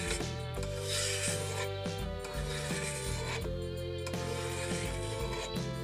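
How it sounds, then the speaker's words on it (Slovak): A flat file rasps back and forth across a chainsaw guide bar clamped in a vise, with repeated close, gritty scraping strokes at an even rhythm and no talk. "Upevníme lištu do zveráka. Zoberieme plochý pilník."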